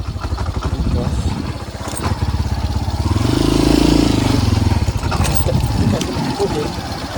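A motorcycle, not an automatic scooter, rides along a rough road in a remote village, its engine chugging steadily and swelling in the middle while people talk over it.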